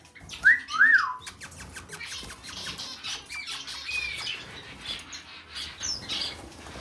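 A pet bird gives a couple of sharp, loud squawks near the start, then continues with softer chirps and whistles over rustling and faint flapping, close by in a home setting after feeding time.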